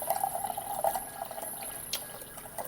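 Water poured or sipped at a tabletop after eating, a close liquid trickle and fill sound with a soft splash near the end, no talking.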